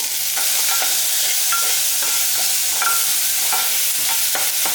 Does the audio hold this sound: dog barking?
no